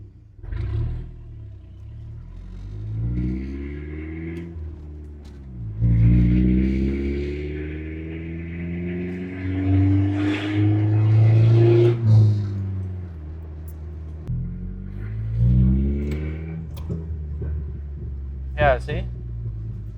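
A cheaply modified Ford Ranger pickup's engine and exhaust rumble deeply while driving, rising and falling through gear changes with a loud growl and a few sharp pops, with someone talking over it at times.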